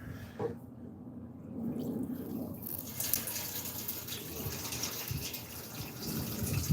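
Reverse osmosis water runs through tubes into a tank, a soft continuous trickle and gush that gets slightly louder over several seconds, heard alone at moderate distance.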